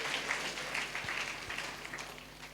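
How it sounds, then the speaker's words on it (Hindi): Congregation clapping in praise during a Sunday church service, a steady wash of many hands spread across the whole stretch, fairly even in loudness with no voices rising above it. "ताली बजा कर एक बार स्तुति करेंगे"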